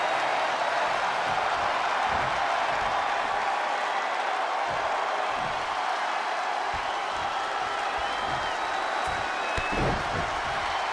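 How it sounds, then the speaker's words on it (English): Loud, continuous roar of a virtual arena crowd cheering during a WWE 2K20 wrestling match, dense and steady throughout with occasional thuds and swells, no talk over it. "when you can't hear yourself think because the crowd's so loud"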